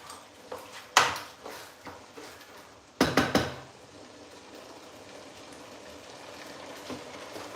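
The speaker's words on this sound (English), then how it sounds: "Let me stir it and taste it." A pot of Nigerian pepper sauce is stirred, with a few sharp utensil knocks against the pot over a quiet simmering bubble.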